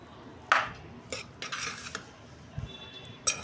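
A spoon scrapes and clanks against a pot while tomato rice is stirred, several sharp metallic knocks and brief scraping strokes spaced irregularly with quiet gaps between.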